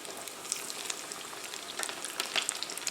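Breaded shrimp deep frying in oil, a steady close crackling sizzle with scattered sharp pops, holding at an even level throughout and slightly busier toward the end, with no voices.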